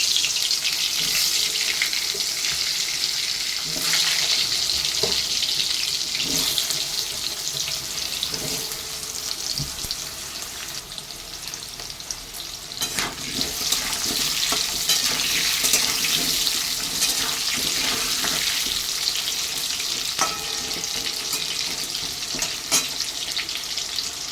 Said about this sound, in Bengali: পেঁপেটা আমি হালকা ভাজবো।